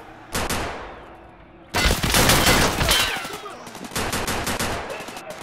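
Gunfire in Escape from Tarkov Arena: a single sharp shot rings out, followed by dense, rapid bursts of close, loud automatic fire with a brief pause between volleys.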